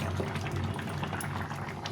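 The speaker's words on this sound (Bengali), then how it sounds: "তরকারিটা ফুটে গেছে" A pot of vegetable curry with flat beans, eggplant and radish boils on the stove, giving a close, continuous bubbling and hissing simmer with no speech.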